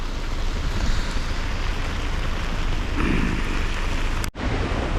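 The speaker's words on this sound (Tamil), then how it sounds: "இதுதாங்க மான்சூன் கேரளா நைட்டு விடிய விடிய மழை பெய்யும்" Monsoon rain falls on a houseboat in Alappuzha, Kerala. It makes a dense, steady, loud hiss of downpour with no talking, broken only by a brief dropout near the end.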